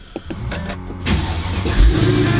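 A Mercedes-Benz CLS55 AMG engine of almost 550 horsepower turns over and fires up, settling into a loud, deep idle rumble up close.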